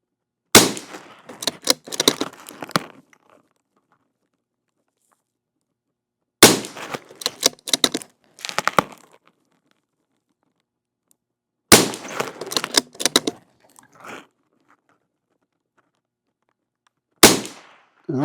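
Shots from a semi-automatic .22 pistol at a shooting match come in four loud, close strings of rapid cracks, separated by several seconds of silence and with no talking.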